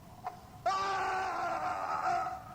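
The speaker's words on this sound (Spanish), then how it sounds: "Se oyó un grito." A sustained high scream, preceded by a brief short cry, rings out during a dramatic reading of an Edgar Allan Poe tale, loud and alone for about two seconds.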